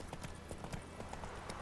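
Horse hooves clip-clopping along a road in The Witcher 3: Wild Hunt, a quick, steady trot heard faintly under a soft ambient wash.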